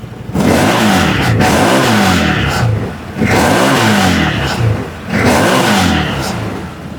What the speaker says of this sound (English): She revs up real nice.